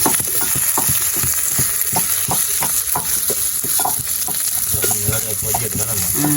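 Egg scrambled into a stir-fry sizzles loudly in a hot pan while a utensil scrapes and stirs in quick, regular strokes, close and continuous, with no talking.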